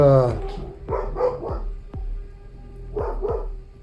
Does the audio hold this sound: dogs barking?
yes